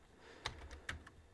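Command typed on a computer keyboard in Kali Linux, a few quiet, close key clicks in a short irregular run against a low background hum.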